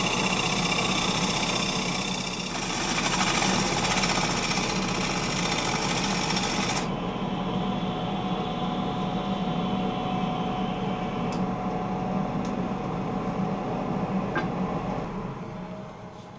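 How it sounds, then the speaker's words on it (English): A woodturning gouge cuts a bowl on a Laguna 1216 lathe, making a steady, loud whirring hiss with a bright edge for the first seven seconds, then a duller continuous hum from the spinning lathe. "moving the gouge slowly with light pressure and the flute almost closed yields a very smooth surface."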